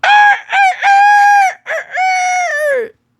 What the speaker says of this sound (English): And then I can hear the roosters.